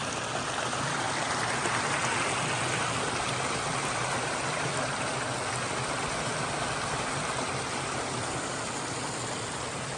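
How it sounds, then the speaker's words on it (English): A waterfall at a natural recreation swim pond, its steady, dense rush of falling water filling the whole stretch at an even, close level with no voices. "Here is the waterfalls."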